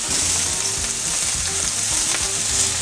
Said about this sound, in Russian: На разогретой сковороде в небольшом количестве масла обжариваем мясо до золотистой корочки.